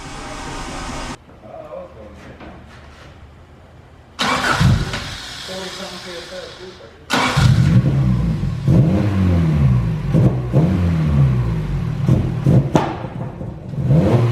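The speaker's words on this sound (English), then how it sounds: "Watch the throttle, how lazy it is." Car engine revving with a sluggish, lazy throttle response on a budget build suspected of a distributor or rotor fault, loud and close with engine surges and dips while people talk over it.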